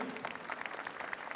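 Audience applause at a catering competition in honour of a pastry world cup founder, a soft, steady patter of many hands clapping at a distance, with a faint voice underneath.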